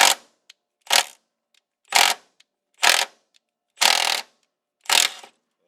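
A ratchet works a stuck half-inch bolt on a 1965 Mustang battery tray, six distinct bursts of rapid clicking spaced about a second apart, each separated by silence.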